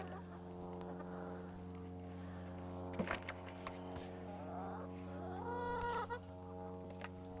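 Chickens cluck softly nearby in repeated short calls over a steady low hum, with a few brief pecking taps and rustles in between.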